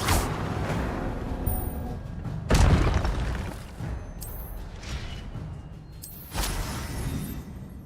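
Incendio fire spell cast in Hogwarts Legacy, heavy booming bursts with a whooshing roar, two or three big blasts spaced a few seconds apart over a rumbling background.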